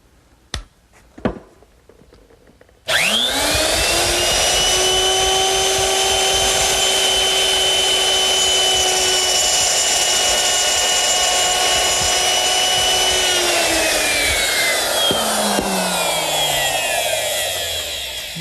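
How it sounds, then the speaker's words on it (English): A router fitted with a 1/4-inch round nose bit and a rip fence spins up loudly and runs steadily while cutting a groove in wood, then winds down near the end, close and alone after a few light knocks. "I'm going to use my router, which is set up with a 1/4-inch round nose bit and a rip fence."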